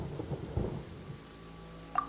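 Thunder rumbles low and close in a Genshin Impact storm, a brief deep roll that fades into quiet, then a short bright game chime at the end.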